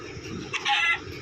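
A Minecraft chicken gives a quick clucking call, one brief burst over faint background game noise, close and alone without talk.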